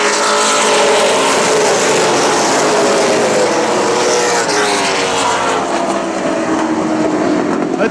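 Race cars at Central Texas Speedway roar side by side on the oval, a loud, dense, sustained engine drone that swells and fades slightly as the pack passes.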